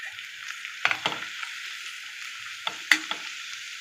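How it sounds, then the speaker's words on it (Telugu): French beans dropped into hot oil after ginger-garlic paste: a bright, steady sizzle broken by a few close clanks and scrapes of stirring, loudest near the end, no voices. "ఇప్పుడు నేను బీన్స్ వేసేస్తున్నాను"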